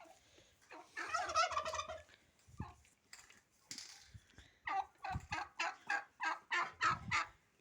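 A turkey gobbles at a rural poultry yard, first in a long rippling burst and then in a rapid series of loud, evenly spaced gobbling notes, with no talk.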